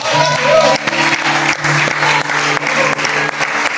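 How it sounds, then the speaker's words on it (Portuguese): Church congregation applause, a loud, dense, sustained round of clapping filling the room, with a steady tonal hum running underneath throughout. "Eu queria dar uma salva de palmas por este ministério."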